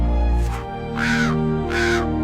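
Two loud, close crow caws ring out alone with a short gap between them, each a harsh, drawn-out call over a steady low background hum.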